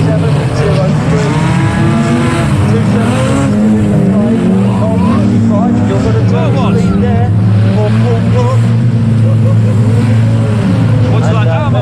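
Stock cars race around a track at a Roger Wilko tribute event, a dense, loud, continuous roar of several engines at once, with a commentator talking over it throughout.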